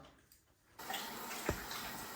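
A kitchen tap turns on and water runs to refill a dogs' drinking bowl, a quiet start giving way to a steady hissing flow with a brief thud partway through.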